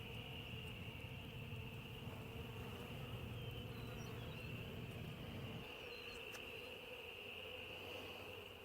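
A dense, continuous hum of honey bees swarming in an open hive box fed with sugar syrup, steady and close throughout, with a low droning layer that drops away partway through; no voices.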